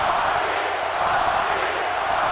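Arena crowd in the wrestling video game WWE 2K18 gives a steady, dense roar of cheering throughout, loud and unbroken, with no distinct voices or calls.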